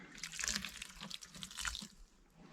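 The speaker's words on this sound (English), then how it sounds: "let me add a little bit of water to this one because it's a little dry on one side" Water pours and splashes onto the dry side of a worm compost bin holding fabric scraps, a steady trickling wash that swells and eases in two short surges, close by, with no talking.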